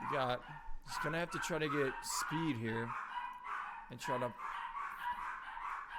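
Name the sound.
dogs barking in the background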